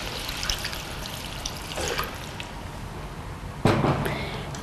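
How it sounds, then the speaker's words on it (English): Water is poured into Chinese curry during cooking, a trickling, splashing flow with a few louder splashes, close and without speech. "Next, you add water."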